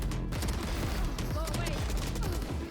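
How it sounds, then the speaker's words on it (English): Bursts of rapid gunfire in a Valorant esports match, loud and continuous through the whole stretch, layered with game effects and crowd or caster ambience. "Though he hears the gunfire."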